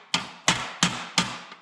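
Hammer striking sheet metal on a 1964 Chevelle tail panel, four sharp evenly spaced blows about a third of a second apart, close and ringing briefly after each hit.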